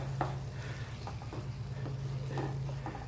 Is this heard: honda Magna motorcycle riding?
no